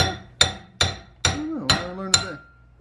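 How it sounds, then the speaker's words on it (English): Six sharp metallic hammer blows at an even pace, close and loud, knocking a rear suspension part off an MK7 Golf R during a tubular rear-end install. "Hammer it off."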